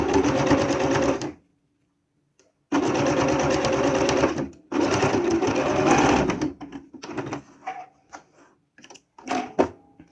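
Domestic sewing machine stitching bias binding, running in three steady bursts with pauses, followed by short stop-start stitches and handling sounds.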